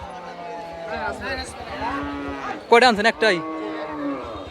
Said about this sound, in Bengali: এটা একটা সুন্দর গরু